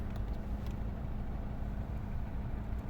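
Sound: Skoda Roomster Scout 1.4 MPI engine running on gas

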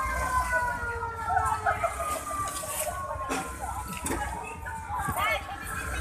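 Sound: fire truck siren as firemen arrive

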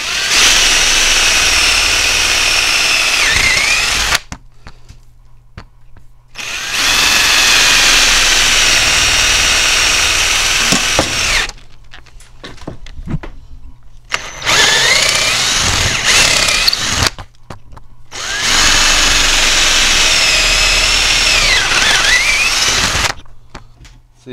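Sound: power drill drilling holes

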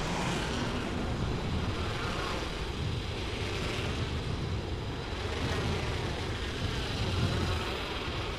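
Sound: riding a zipline in the video game Apex Legends Mobile

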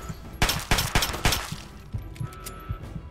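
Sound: gunfire in the Fallout video game

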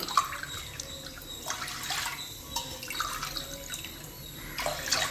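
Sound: water being poured into rice

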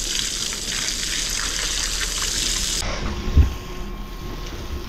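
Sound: water washing sand inside water tank

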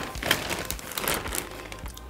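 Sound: crinkling plastic bag holding a dust bag

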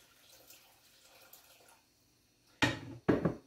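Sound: pouring water into cooking pot

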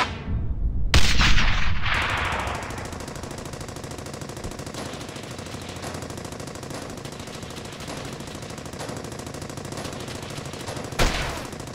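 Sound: grenade and gunfire in Brothers In Arms video game

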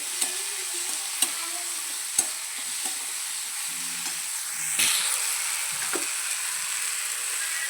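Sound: ginger garlic paste sizzling and roasting in oil

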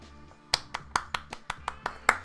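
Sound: viewer clapping during football watch-along

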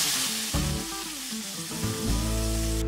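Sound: mango pulp added to hot ghee, sizzling in pan

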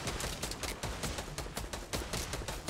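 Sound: gunfire in the video game Fortnite

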